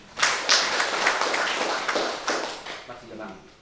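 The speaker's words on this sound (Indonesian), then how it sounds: "Beri tepuk tangan yang meriah." Applause and clapping from a congregation at a Christian wedding blessing ceremony, a steady patter of many hands lasting a few seconds, with a voice speaking over it.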